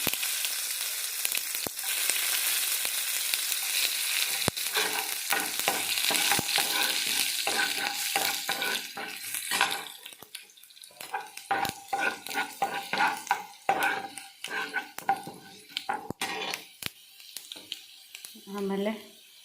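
Garlic, with onion, cumin and mustard seeds, frying in a pan for tomato gojju: loud crackling sizzle at first, then a quieter sputter broken by spoon clinks and scrapes, up close.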